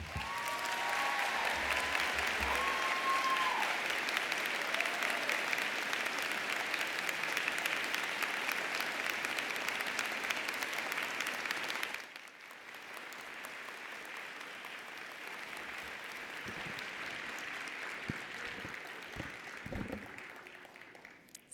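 Commencement crowd at a college of social work ceremony applauds its speaker: long, dense clapping that runs loud and steady, then drops abruptly to a thinner, quieter round that continues with scattered claps to the end.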